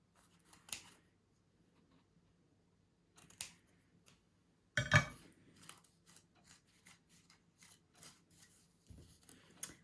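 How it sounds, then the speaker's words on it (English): Scissors snip slits into the end of a paper rocket tube, giving a series of sharp, close cuts spaced irregularly, with one loud crunching snip in the middle and quieter clicks and rustles between them. "put about 8 or 9 little cuts, about 1 centimetre deep, around the end"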